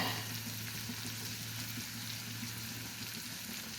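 Turmeric and chili fry quietly in a pan, a faint even sizzle under a low steady hum, with no voices.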